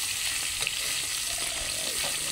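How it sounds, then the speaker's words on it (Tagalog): Fish frying in a hot pan before going into sinigang, a steady close, loud sizzle with small crackling pops throughout, no talking. "Yun na mga kasarap yung ating prito."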